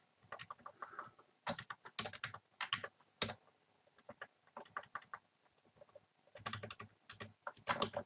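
Typing on a computer keyboard while coding, with irregular bursts of close, crisp key clicks separated by short pauses.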